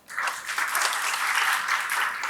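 An audience applauds a speaker at the close of an address at an orientation event, with dense, steady clapping from the start that holds loud and even throughout.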